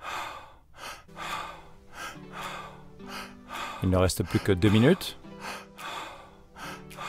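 Fast, forceful rhythmic breathing from an intense breathwork exercise, with sharp quick inhales and exhales in a steady pulse, rising to a loud burst of rapid gasps midway while a French-speaking voice talks over it.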